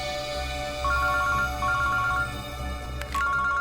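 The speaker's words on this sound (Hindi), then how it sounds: "अभिजीत का फोन है।" A mobile phone ringtone rings in a Hindi TV crime drama, CID, sounding as a loud, repeating electronic melody in steady bursts with short gaps, clear over a low background hum.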